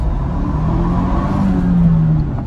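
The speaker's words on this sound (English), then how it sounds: "We'll step out and on the gas." A modified 2022 Ford Bronco Big Bend SUV engine accelerates hard from inside the cabin, its droning pitch climbing steadily while road noise rumbles underneath.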